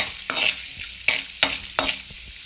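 Chana dal tempering stirred in a frying pan for a Karnataka-style capsicum gravy: a soft oil sizzle broken by four distinct spoon-against-pan scrapes at a steady, unhurried pace, close and clear with no talking.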